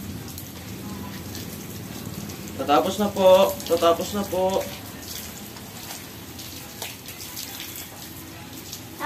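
Water runs and splashes during a Belgian Malinois dog's bath, a steady hiss and patter under a voice speaking briefly in the middle.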